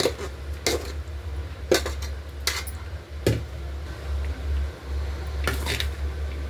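Chicken biryani being mixed in a pot at home, with a few separate clinks and scrapes of a utensil against the metal over a steady low hum.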